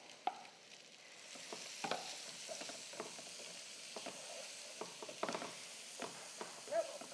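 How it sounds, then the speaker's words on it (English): Onions go into a frying pan with sausage and turkey, and a soft sizzle runs under repeated scraping and stirring taps of a utensil. The sound is close but fairly quiet, with no talk. "All right, we're going to add our onions."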